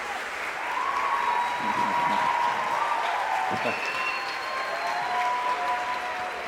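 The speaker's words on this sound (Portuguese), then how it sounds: "Palmas para os nossos palestrantes" An audience at a university debate talk applauds the speakers, with sustained, even clapping from a sizeable crowd throughout and a few voices speaking over it.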